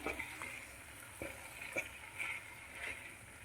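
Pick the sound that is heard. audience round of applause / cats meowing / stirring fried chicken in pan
stirring fried chicken in pan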